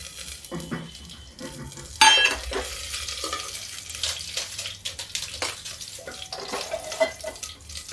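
Dried chillies, fenugreek, fennel and carom seeds dropped into hot oil, a sudden sharp crackle followed by a steady close sizzle with light stirring clinks and no talk.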